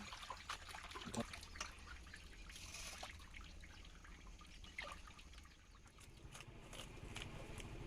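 Cut fish pieces being washed by hand in water, with soft trickling, dribbling and splashing that continues quietly and fairly close throughout, with no talk.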